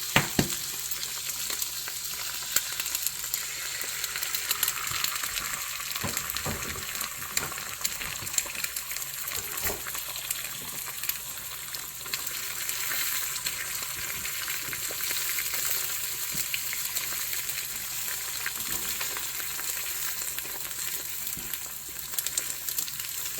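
Eggs frying in a pan on lowered heat, a continuous crackling sizzle with small pops throughout, close and steady with no talking.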